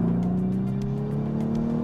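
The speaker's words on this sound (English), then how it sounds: "now we can try how it sounds here from the inside when I shift downwards" A 2015 VW Scirocco R with the 280 hp engine, heard from inside the cabin while downshifting in third gear, gives a steady, loud engine drone whose pitch slides as the revs change.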